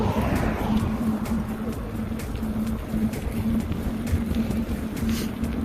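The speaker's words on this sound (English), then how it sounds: "I don't know how the microphone has been with the air ripping past it and all the car noise" Steady wind buffeting a microphone from riding along a bike trail with a car passing nearby, a continuous loud rushing roar with a low engine drone and no talking.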